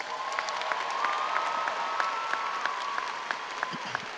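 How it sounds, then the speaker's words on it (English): A crowd at a high school commencement ceremony applauds in a soft, distant wash of clapping with a few sharper individual claps, while a faint steady tone hums underneath. "Let us give all of those individuals, class of 2025, a round of applause."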